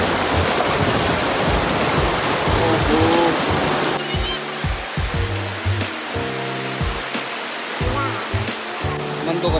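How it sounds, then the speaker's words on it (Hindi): A fast, powerful river near Ramnagar rushes over rocks in a loud, continuous roar. Voices talk over the water during the second half. "पानी कितने तगड़े मार दिया भाई साहब, हाँ तो ऐसा लग रहा है कितनी तेज चल रही है।"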